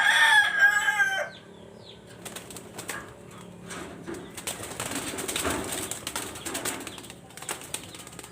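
Pigeons in a loft, just moved to new quarters, give a loud burst of calls and wing flutter at first, then settle into quieter, intermittent cooing and shuffling.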